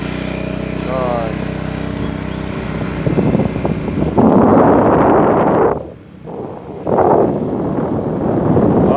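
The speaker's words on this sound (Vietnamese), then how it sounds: "có thể là gió sẽ rất là to, tại vì ở trên này là bây giờ đang lưng chừng núi." Strong mountainside wind buffets the microphone in heavy, roaring gusts over a running motorbike engine, dropping briefly before surging again.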